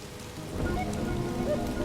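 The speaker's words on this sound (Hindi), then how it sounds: "अगर यहाँ बारिश हो रही है तो मतलब वहाँ ऊपर बर्फ गिर रही है" Steady rain pattering on a surface, a dense continuous hiss with low rumbling underneath, fairly close and even throughout.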